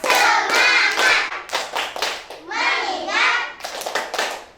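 Children in a classroom ice-breaking game clapping in rhythm, loud and close, mixed with voices chanting along between the claps.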